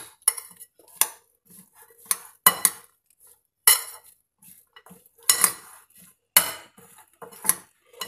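Spoon clinks and scrapes against a bowl while corn chaat is mixed with mango and coriander-mint chutney, coming in irregular bursts with short quiet gaps between them.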